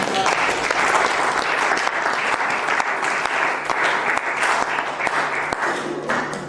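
A church congregation applauds steadily for several seconds, a dense, continuous round of clapping that fills the room, with a few voices faintly mixed in.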